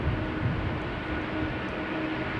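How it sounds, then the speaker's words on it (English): A KLM Boeing 787-10 Dreamliner lands at Amsterdam Schiphol on a showery day, a steady engine roar with low rumble heard at a moderate distance throughout. "This is KLM Flight 644, arriving from New York JFK, 787-10 Dreamliner"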